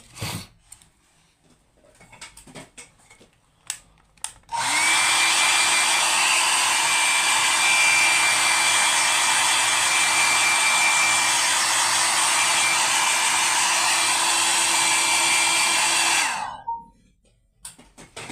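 A hair dryer blows to speed the drying of paint on a sacred statue, switching on abruptly and running loud and steady for about twelve seconds before cutting off, with faint handling noises around it.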